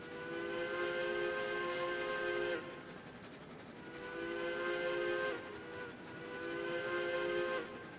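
A steam locomotive whistle from the Railroads Online video game sounds in three sustained, chord-like blasts with short gaps between them, bright and fairly loud, and no voice is heard.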